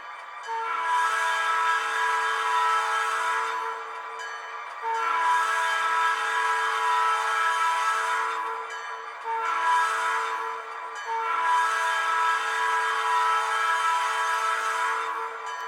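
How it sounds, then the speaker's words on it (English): A ScaleTrains EMD SD45X model locomotive horn sounds in four sustained blasts, each a few seconds long with short pauses between, steady and fairly loud with no talking. "We'll blow the horn."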